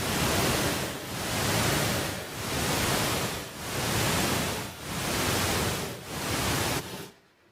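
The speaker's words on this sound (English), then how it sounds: "we played the deep sleep stimulating sound that was shown to make them have deeper sleep" Bursts of deep-sleep-stimulating pink noise pulse in a regular rhythm, six loud broadband swells a little over a second apart, each dipping briefly before the next, then abruptly fading out.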